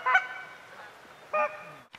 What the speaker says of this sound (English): They're the geese.